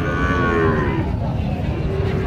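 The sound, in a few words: cattle mooing at a livestock market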